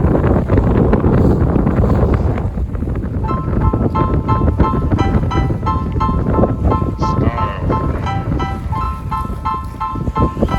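Steady roar of strong wind buffeting the microphone with rushing water and hull noise as a sailboat drives upwind at about six knots, no voices.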